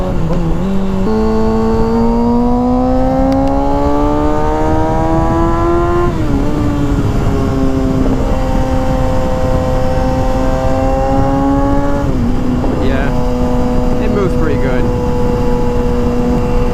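A high-mileage Kawasaki Ninja 636 sportbike accelerating hard, its loud engine tone climbing steadily in pitch and dropping at each of several gear shifts, with heavy wind rush throughout.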